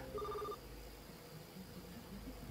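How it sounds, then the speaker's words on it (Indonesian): A telephone rings in the stealth video game Robbery Bob, with one short electronic ring burst at the start, then a quiet game background that continues. "Pak, ada telepon."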